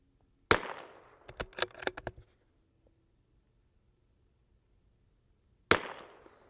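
Two sharp, loud Tikka T1X MTR .22LR rifle shots roughly five seconds apart, the first followed by a short run of metallic clicks and clacks from working the action, with quiet outdoors in between.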